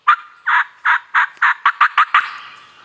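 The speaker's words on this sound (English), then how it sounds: "There's birds gobbling everywhere." Wild turkeys gobble loudly and close by in the woods on a spring morning, a run of about ten rapid, rattling bursts that come quicker toward the end, with no voices over them.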